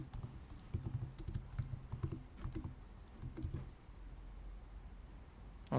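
Keystrokes on a computer keyboard tapped in short irregular bursts, moderately close, with pauses between clusters and a quieter stretch toward the end; no talking.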